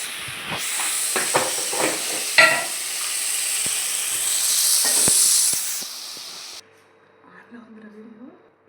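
Pesarattu ingredients frying in oil in a pan, a loud hissing sizzle with clattering stirs that fades and cuts off, leaving near silence with a brief voice near the end.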